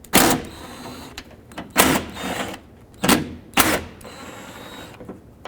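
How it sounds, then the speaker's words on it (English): A T27 Torx bit on a driver backs out fasteners from a 2008-2010 Ford F-250 rear door latch: four short, close whirring bursts separated by brief pauses. "Now we can take our T27 Torx bit, remove all 3 of these fasteners."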